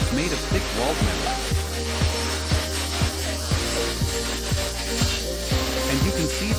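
Factory machinery making thick-walled, 9-meter solid-drawn metal screw augers, giving a steady mechanical hum with repeated rhythmic knocks about every half second, loud and continuous throughout.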